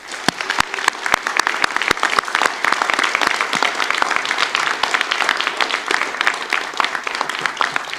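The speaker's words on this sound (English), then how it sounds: "I would like everyone to give a round of applause for Sydney Ibarra" A round of audience applause at the West Shore college student awards ceremony, many hands clapping continuously with sharp individual claps standing out, sustained at an even level from start to finish.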